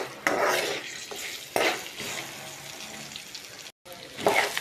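Rice is stirred and mixed in a pan for lemon rice, with scraping spoon strokes over a soft sizzle, loud at close range, with a few sharper scrapes and a brief gap.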